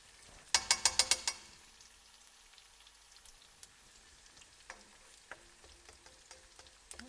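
Onions fry golden for a Sri Lankan crab curry. A quick run of sharp metallic scrapes and taps from stirring comes first, then a soft, steady sizzle dotted with scattered pops.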